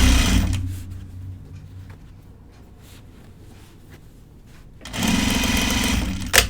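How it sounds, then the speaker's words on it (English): A sewing machine hems and top stitches pants, running loudly at first, slowing to a quieter stretch with faint clicks, then speeding up again near the end. "I love hemming and top stitching"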